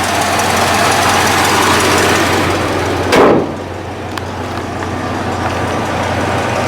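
A 1969 Buick GS engine runs at a steady idle, smooth and continuous, with a brief louder swell partway through before settling back to an even hum.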